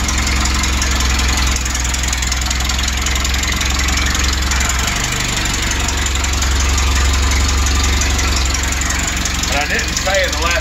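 A 1988 Toyota pickup's 22RE four-cylinder engine idling steadily and loudly close by, a constant low rumble throughout, with someone talking over it.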